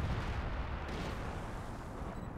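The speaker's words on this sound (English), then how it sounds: "Oh. Artillery." Heavy artillery fire in the video game Company of Heroes 2, a loud, dense rumbling barrage of blasts filling the short stretch without pause, with no voices over it.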